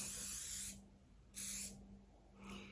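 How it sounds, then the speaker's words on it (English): Hairspray hisses onto hair in three short aerosol bursts, close and fairly quiet, separated by brief pauses. "I'm just going to use a little bit of hairspray just to help them stay in."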